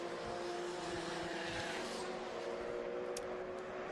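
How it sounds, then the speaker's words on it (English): A Vauxhall Corsa B race car running at Oulton Park, heard as a steady, continuous engine drone that stays fairly even and moderately loud from a distance, with no talking. "Michael Greenhue in Classic and Retro here, the Tom Lahr Motorsport Vauxhall Corsa"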